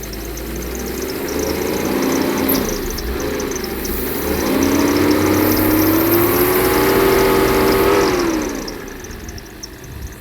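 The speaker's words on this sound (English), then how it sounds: "Let me try to accelerate gently." A Mercedes-Benz 300SE's M103 inline-six, running on a converted aftermarket ECU, hums near and steady, then swells gently under light throttle, holding a higher droning pitch for several seconds before easing back toward idle.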